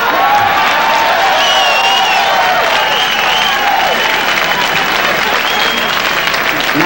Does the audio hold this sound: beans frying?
no